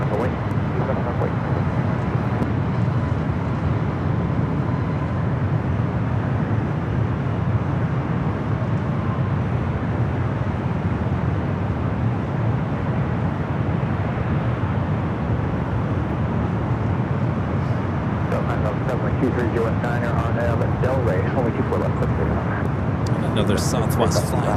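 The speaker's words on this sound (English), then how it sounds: "Southwest flight rolling down at 24 left." A Southwest Boeing 737 airliner takes off on runway 24 left at LAX, its loud, steady jet roar filling the whole stretch while voices talk underneath.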